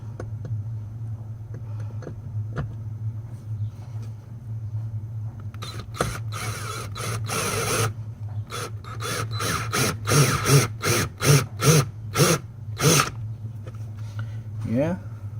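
A power tool or ratchet drives bolts on a Mercedes under-seat storage bin, giving a series of short, rhythmic whirring bursts close by, while someone talks over a steady low hum.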